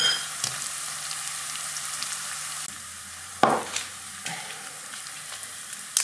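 Cumin and spices for an Indian lentil dal fry in a pan with a steady broadband sizzle that settles slightly partway through, broken by a few sharp clinks and a louder stir.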